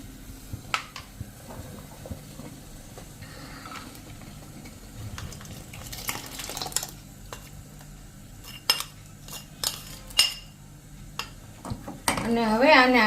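Milk with melted Oreo biscuits being stirred in a pot, a spoon scraping and clinking against the metal in irregular strokes over a low simmer, with a brief louder clatter near the end.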